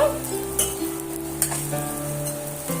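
An egg paratha sizzles steadily in a pan as oil is poured around its edges. A few light clinks sound over a steady tonal hum.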